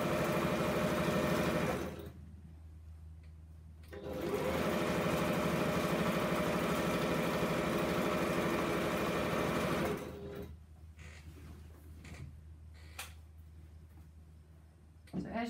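Domestic sewing machine stitching a wide quilt border onto a quilt frame, running in long steady bursts with brief pauses between, close and loud, no talking.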